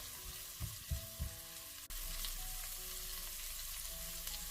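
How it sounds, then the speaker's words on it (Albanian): Onion frying in a pot for vegetable chicken soup, a steady close sizzle with a few stirring bumps at the start, then a louder even hiss with no talk. "Vazhdojmë, fërgojmë vetëm për 2 deri në 3 minuta."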